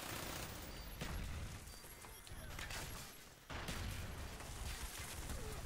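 Death Machine minigun fire in the Black Ops online match, dense continuous rapid bursts under constant game noise, with a short break before the firing surges back loud near the end.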